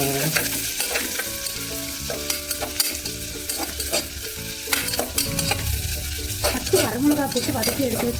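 Chopped onions fry in hot oil for a chicken chukka, sizzling steadily while a spoon scrapes and stirs them around a metal pan in repeated clattering strokes, close and fairly loud.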